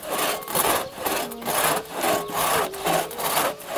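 Hand saw rasping through wood in steady back-and-forth strokes, about six strokes at an even rhythm, close and loud.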